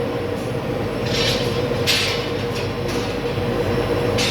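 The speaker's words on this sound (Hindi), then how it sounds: "लुब्रिकेशन चालू हुआ" Steady mechanical rumble with a faint whine and brief hissing bursts from a laser machine's automatic lubrication system pumping, continuous and fairly loud with no talk.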